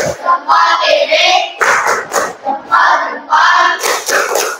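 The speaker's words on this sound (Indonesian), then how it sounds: "Gimana kalau tepuk jempol? Jempol kanan, jempol kiri," A classroom of children chants loudly in unison during a rhythmic thumb-clapping routine led by a teacher, with voices rising and falling in short bursts alongside light claps.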